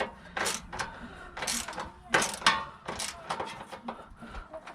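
A ratchet wrench clicks in quick bursts while a bolt is tightened on a wrecked 2010 Nissan Rogue S AWD salvage SUV, the close mechanical ratcheting coming in several uneven runs.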